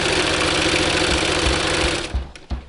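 A sewing machine stitches the edge of a cloth napkin in a fast, steady mechanical whir, close and fairly loud, then stops abruptly near the end, leaving a couple of small clunks.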